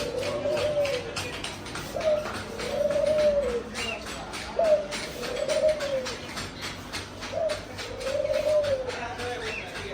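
Pigeons or doves at a bird shop cooing repeatedly in soft, regular phrases, close by, over a steady background hum with light chirps and taps.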